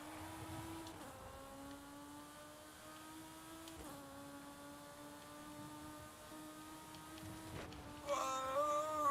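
A BMW Isetta races in Forza Horizon 5, its small engine droning steadily with rising pitch through gear changes, a faint continuous whine that swells louder near the end.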